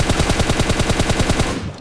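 Sustained automatic fire from an M249 machine gun in PUBG, a fast, loud, steady stream of rapid shots with no pauses, cutting off near the end.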